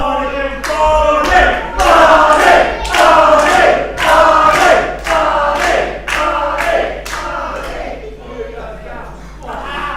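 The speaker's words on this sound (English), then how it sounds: "The crowd serenading BT Ryan with Barney chants." At a wrestling event, a large arena crowd chants a repeated Barney song in loud, rhythmic unison, with sharp beats roughly every half second that soften toward the end.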